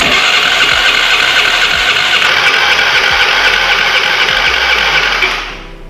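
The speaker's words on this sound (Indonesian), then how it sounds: "Nyalakan kickstarter." A motorcycle engine kick-started during a battery voltage check runs loud and close at a steady, buzzing idle, then fades out at the end.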